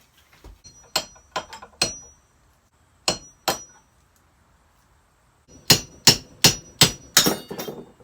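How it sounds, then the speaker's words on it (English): A hammer taps a CV joint out of a 1971 VW Super Beetle: scattered sharp metal strikes, a few soft ones, then a louder cluster of about six quick blows near the end, close and with no talk. "I'm just going to try to tap on that to get it out"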